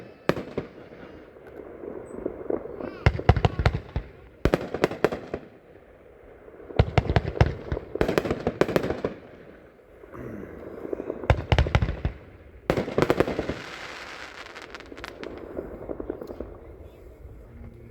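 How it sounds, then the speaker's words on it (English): A 24-shot angled fireworks cake called Out of Control fires in rapid volleys of sharp cracking bursts, separated by short lulls and echoing outdoors, with a crowd's faint murmur beneath. "this is number 97, 24 shot angle cake. This is Out of Control."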